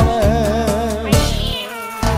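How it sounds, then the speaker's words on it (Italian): A cat meows as a sound effect inside an Italian song, with drawn-out plaintive calls riding over loud instrumental backing. "mi è scappato il gatto nelle scale"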